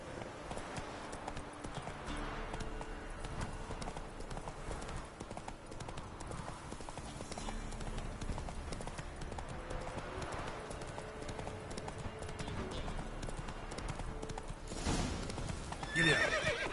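Geralt's horse Roach gallops in The Witcher 3, rhythmic hoofbeats pounding steadily beneath game music, with a neigh breaking through near the end.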